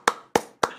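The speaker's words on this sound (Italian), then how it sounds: "Un applauso!" Three sharp, evenly spaced hand claps ring out close and distinct in a quiet space after a singing contest performance, with the start of a fourth at the very end.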